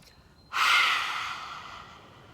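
One long, deep breath out during a children's breathing exercise, a sudden breathy rush that slowly fades, close and alone.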